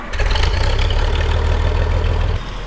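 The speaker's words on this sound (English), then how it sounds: "We get this on, start the tractor." A tractor engine runs loud and close just after starting, a steady low rumbling idle with a chugging pulse that drops in level near the end; no one speaks.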